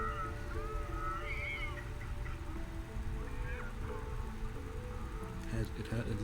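A cat meowing in a video game, a few soft, drawn-out meows over a steady low hum and background game sound.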